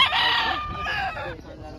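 A rooster crows nearby among many chickens for sale in Bocaue, loud and drawn out, with faint background noise and some voices around.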